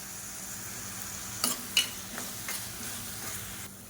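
Onions sizzle softly in hot oil in a pan while being sautéed for a tomato thokku, with a few quiet stirring scrapes and clinks over the steady frying hiss.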